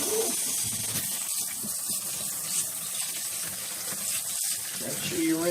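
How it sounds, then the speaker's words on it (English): Tap water runs into a kitchen sink while vegetables are rinsed, a steady close splashing hiss with faint swirling and clatter beneath it. "make sure you rinsing these real good"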